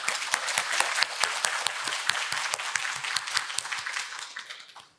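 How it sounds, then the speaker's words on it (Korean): Audience applause welcoming a bishop to the podium at a Catholic symposium on family and youth in Seoul: steady dense clapping from a hall crowd, sustained for several seconds before tapering off at the end. "박수로 맞아주십시오"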